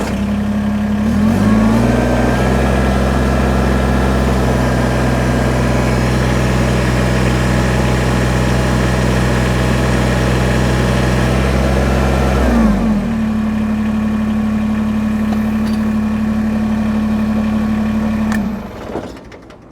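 A Kubota BX compact tractor engine runs steadily and loud for about eleven seconds while lifting a load, drops briefly in pitch, then settles into a steady idle before cutting off near the end.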